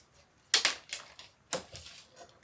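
Two crisp tearing rips of Ziploc pouches of salsa being unzipped, each a sharp burst followed by a softer crinkle of plastic, close and clear with no talking.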